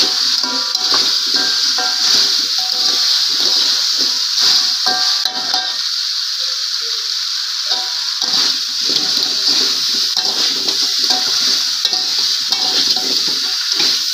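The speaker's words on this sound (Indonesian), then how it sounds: "sekarang saya masukin singkongnya" Cassava pieces stir-fried in a balado spice paste of chilli, a steady close hiss of frying with scraping stirs throughout, no one talking.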